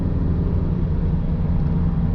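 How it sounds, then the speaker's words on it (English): Rear-mounted exhaust of a Porsche 993 with an aftermarket system, a steady low rumble and drone from inside the car, continuous and even with no voices. "your exhaust is way back there and it's not traveling under you, it's just spitting right out the back of the car"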